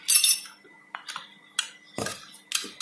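A metal spoon clinks sharply against a bowl holding flour for a vanilla sponge cake, several bright separate taps spread over a few seconds, close and clear with no talk.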